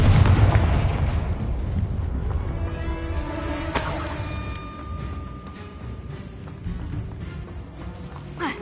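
A Confringo fire-blast spell bursts in the video game Hogwarts Legacy, a loud blast followed by a sharp shattering crack and a long, fading rumble of debris.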